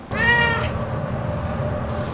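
An indoor cat lets out one clear, fairly loud meow that rises and then fades, followed by quiet background hum.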